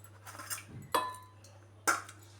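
Coriander seeds tipped into a metal mixer jar, heard as a few separate short clinks and rattling pours with quiet gaps between them, close by.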